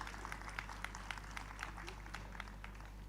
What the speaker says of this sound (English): And a big round of applause for all our esteemed panelists.